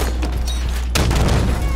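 Gunfire in the video game Halo 5 pounds out in a loud, close, dense burst that gets heavier about halfway through the short moment.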